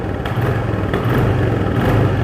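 Close and loud, a 2023 Royal Enfield Classic 350 motorcycle on its stock exhaust is revved, its dense low engine roar swelling slightly over a couple of seconds.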